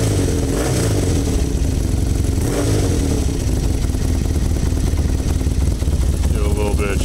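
A 1985 Honda Interceptor VF700F idles with a steady, loud, close burbling V4 pulse and a slight mechanical clatter. It holds an even rhythm throughout.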